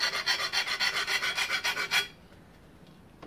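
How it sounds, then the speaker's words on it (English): A rat tail file deburring the inside of a small metal part during a Honda XL250 motorcycle restoration, about a dozen quick, even rasping strokes close up, then silence. "You can use a rat tail file inside to deburr that."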